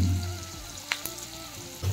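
Chillies and onions frying in a home-kitchen pan, a soft crackling sizzle with a few sharper pops and a low hum underneath.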